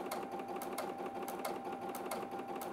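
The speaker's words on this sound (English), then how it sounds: "And there we go, we're actually sewing" A Brother Stellaire XJ2 sewing machine stitches sideways, producing a quick, regular run of soft mechanical clicks and whirring, close but quiet, with no talk.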